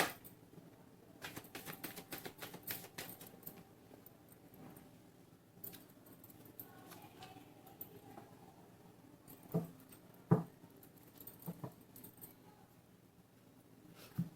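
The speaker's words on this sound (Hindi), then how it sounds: "this is my last shuffle" Tarot cards being shuffled by hand at a table, giving a soft, irregular patter of riffles and flicks that stays faint throughout, with a few sharper snaps near the end.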